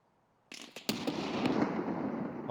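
In the Escape from Tarkov video game, a thrown grenade goes off: a sharp click, then a loud blast that rolls into a long, sustained rumbling roar.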